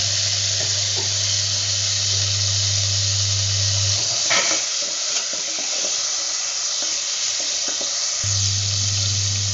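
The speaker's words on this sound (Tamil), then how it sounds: "இப்போ தக்காளி கருவேப்பிலை போட்டு வதக்கிக்கலாம்." Onion, tomato and curry leaves sizzle steadily as they fry in a pan for a fish curry, with a low hum dropping out midway while scraping and stirring clatter comes through, and no one speaks.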